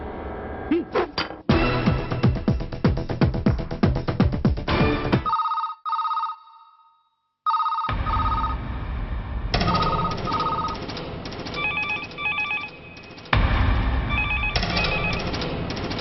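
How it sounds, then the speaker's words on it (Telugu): Telephones at police stations ring on and on unanswered, a loud insistent electronic ringing repeating in bursts, with a short quiet gap midway and music or thuds mixed in. "ఏ పోలీస్ స్టేషన్లోనూ ఫోన్లు ఎత్తడం లేదా"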